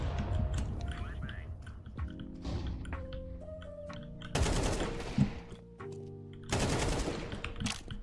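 Gunfire in Counter-Strike 2, with loud bursts of rapid shots in two distinct volleys breaking through a background of sustained game music tones and clicks.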